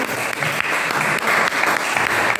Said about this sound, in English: Big round of applause for Russ.